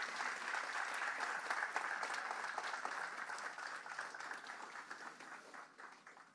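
Applause from the audience at a formal ceremony in Paraguay as the president is handed a recognition plaque, a steady dense wash of clapping that tapers slightly toward the end, with no talk.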